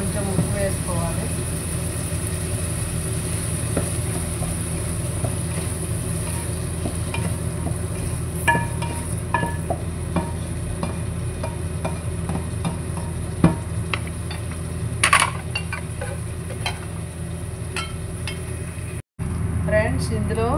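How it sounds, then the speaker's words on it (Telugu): Eggplant fries in a pan with onions, tomatoes and green chillies, a soft continuous sizzle with occasional clicks and stirring scrapes under a steady low background hum. "ఇందులో ఉల్లిపాయలు, టమాటాలు, పచ్చిమిరపకాయలు వేగిపోయాక వంకాయలు వేసాను"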